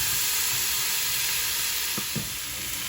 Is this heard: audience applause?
no